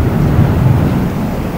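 A thunderstorm gives a loud, continuous low rumble of thunder with a steady wash of rain underneath, unbroken and close for the whole moment.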